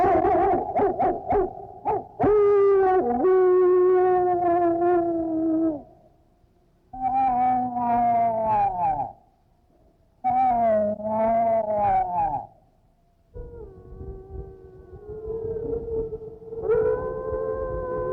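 Long, sliding wolf howls rise and fall in several drawn-out waves, separated by short silences, with some overlapping voices late on, answering a human wolf call; fairly clear and alone, no talk.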